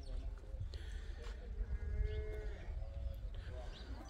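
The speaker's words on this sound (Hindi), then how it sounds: "ऐ बकरियां ते भेड़ां दा वाड़ा है" Goats and sheep in a village pen in rural Punjab, Pakistan, with scattered bleats and bumping, shuffling noises over a busy outdoor background; someone talks throughout.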